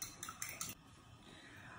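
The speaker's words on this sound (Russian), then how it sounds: "Яйца разбиваем и взбиваем." Eggs cracked into a bowl and whisked for a double breading on white fish: a few quick metallic clinks of utensil on dish, then a steady, soft whisking rustle, close and fairly quiet.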